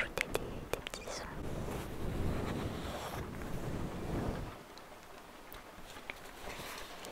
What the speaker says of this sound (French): malgré les bruits de pluie en fond